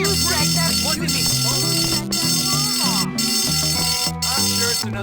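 Video game fire alarm blaring, a loud continuous electronic wail broken by short pulses roughly every second, with a melodic game soundtrack playing underneath.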